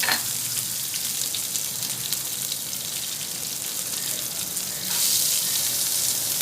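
Chopped green chillies frying in a pot of oil at the start of one-pot tomato rice, a steady hissing sizzle with a brighter, louder burst near the end and no talking.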